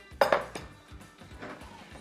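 A cutting board is picked up and set down, with a couple of sharp clinks and clatters followed by softer knocks on a counter.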